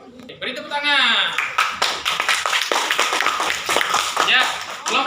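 Students in a classroom break into a burst of hand clapping that lasts several seconds, loud and close, with voices mixed in among the claps.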